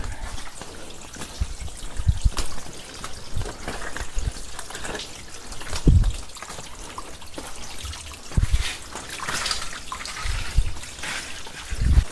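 Water trickles and drips from a rock ledge on a narrow rainy-season trail near a waterfall, a continuous close splashing with irregular louder drips and footsteps.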